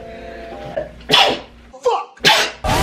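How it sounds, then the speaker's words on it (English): A person sneezes several times in quick succession, loud, close bursts separated by short gaps, with brief sharp intakes of breath between them. "I was sneezing for like 20 minutes."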